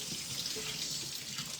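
Tap water runs steadily into a kitchen sink while black beans are rinsed, a soft, even splashing rush with no break across the short moment.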